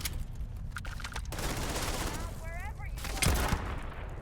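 Gunfire in the video game Starfield, bursts of rapid shots mixed with a loud electronic whine and sweeping tones, the firing fairly near and harsh against a noisy background.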